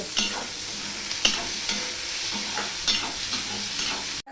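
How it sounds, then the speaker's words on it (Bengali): Sliced onions and potatoes fry together in oil in a pan. A continuous sizzle hisses throughout, broken by a handful of sharp spatula scrapes and clicks as the food is stirred. No voices are heard. "পেঁয়াজ আর আলুটা আমি একসাথে ভেজে নেব"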